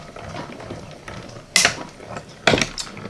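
A mini die-cutting machine is cranked by hand, producing soft ratcheting gear clicks with two louder clunks partway through.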